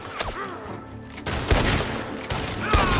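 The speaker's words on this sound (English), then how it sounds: "The gunshots are coming from that barn!" Gunfire in the Red Dead Redemption 2 video game: several sharp, loud shots crack in an uneven volley over about three seconds, with faint voices in the background.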